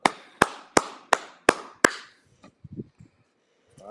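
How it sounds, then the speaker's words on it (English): A class claps in unison, six sharp, evenly spaced claps ringing out loudly, followed by a few scattered faint taps and knocks in a quiet room. "go ahead and clap it up"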